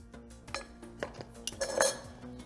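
Spoon clinking and scraping against a serving dish while caramelized sweet tomatoes are shaped for a Moroccan chicken tagine: several sharp, close metallic taps and scrapes, loudest near the end.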